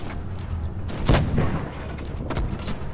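Tank cannon blasts in World of Tanks Blitz from an FV4005, two heavy booming shots about a second apart over a low engine rumble.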